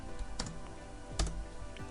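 Keystrokes on a computer keyboard while code is typed, a few sharp clicks scattered over a quiet background, fairly faint and close.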